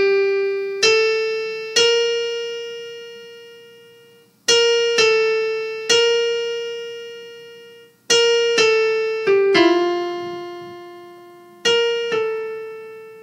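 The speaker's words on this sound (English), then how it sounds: "So the melody sounds like this." The melody of the Inundanos chorus is played as a series of clean, plucked or keyed single notes, each with a sharp attack and slow decay, arriving in uneven groups with short pauses between them, clear and alone.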